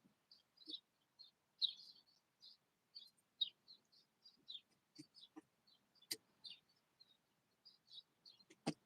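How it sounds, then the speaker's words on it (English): Birds sing and chirp in the morning in short repeated bursts against a quiet outdoor background, with a few sharp clicks in between. "Birds sound wonderful in the morning"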